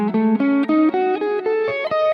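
An electric guitar plays a rising minor pentatonic run with a flat five, about ten distinct picked notes, each clearly separated, with a bright, slightly driven tone up close.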